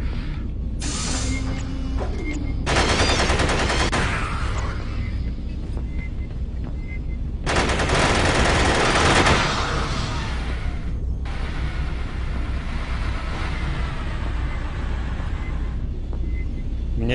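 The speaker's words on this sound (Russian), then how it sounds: "Здоровенный пулемет." Loud, sustained mechanical rattling bursts from a heavy machine gun in the video game Aliens versus Predator 2, with dense clattering that stops and restarts in long stretches over steady background noise.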